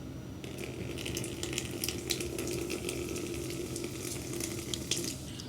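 Drink poured from a container into a bowl set on a table, giving a steady splashing, trickling stream close by that runs for several seconds without talk.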